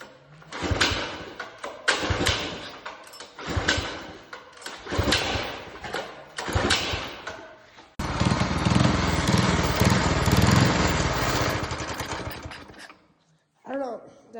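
A minibike with a Predator engine and a freshly painted black frame is cranked several times in short bursts, then catches and runs loud and steady before cutting out, close by with a little talk afterward.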